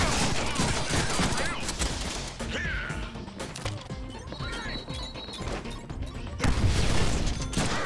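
Heavy, continuous gunfire in the Deadpool video game: dense overlapping shots and crashing impacts close and loud, with clattering mechanical noise and a brief lull before another intense burst.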